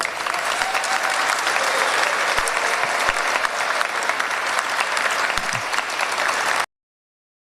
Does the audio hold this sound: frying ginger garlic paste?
no